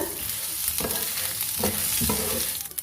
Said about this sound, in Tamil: இப்ப நல்லா கிளறி கொடுங்க